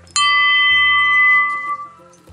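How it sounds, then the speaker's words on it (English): A loud bell gong sound effect strikes once sharply, then rings out with a bright, sustained metallic tone that slowly decays over about two seconds, alone with no voices. "I promise it won't be this loud when you gong that bell"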